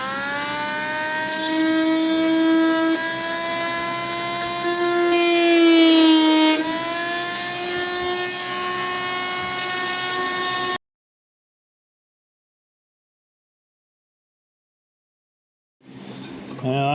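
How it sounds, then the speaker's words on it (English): An oversized Dremel-style rotary tool fitted with a chisel head gouges into a display-only Claymore sword, giving a steady harmonic motor whine that bends in pitch under load. It stops abruptly, followed by several seconds of silence. "it's actually kind of like an oversized Dremel, but it has interchangeable heads, and one of the heads is just like a chisel head"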